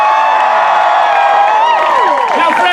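An audience at a live Shakespeare comedy show cheers, whoops and applauds in a loud, close burst of mixed voices and clapping.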